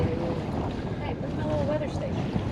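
A sailboat creeps along at about four knots in light seven-to-eight mile an hour winds, giving a steady rush of wind and water with faint creaks, continuous and moderately loud.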